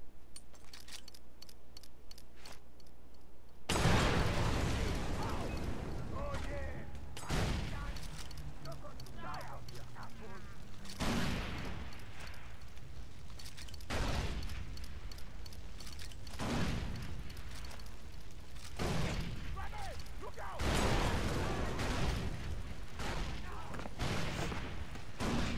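Gunfire and a frag grenade blast in the jungle shooter Far Cry 3, with repeated loud broadband bursts of shots and impacts spread across the clip and a voice talking between them.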